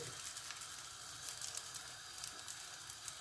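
Diet brik frying in a pan produces a faint, continuous crackling sizzle with fine pops, steady and close, with no talking.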